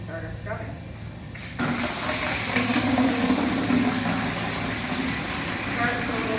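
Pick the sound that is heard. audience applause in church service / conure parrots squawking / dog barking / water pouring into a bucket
water pouring into a bucket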